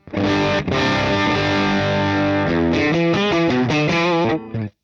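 Electric guitar with humbucker pickups played through a UAFX Ruby amp pedal with no boost engaged, breaking up into a loud, gritty overdrive: sustained chords, then a quicker run of picked notes ending abruptly.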